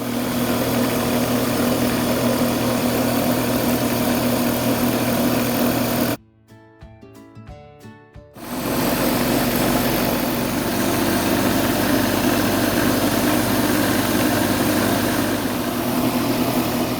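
Wood lathe running steadily while a segmented ebony and olive wood pin is sanded with 600 grit paper, a loud continuous motor hum that cuts out for about two seconds midway and then resumes.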